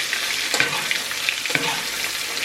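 Steak sizzling steadily in a hot pan while a metal spoon bastes it, with a constant fizzing hiss and a few light scraping clinks close by.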